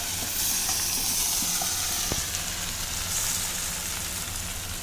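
Eggplant frying in a small pan, a steady broadband sizzle and hiss running throughout with a faint clink partway through; no one speaks.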